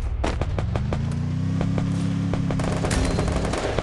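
A hand cannon fires in a shooting video game, a rapid run of sharp, loud, close cracks over a steady low engine-like hum, with no talk.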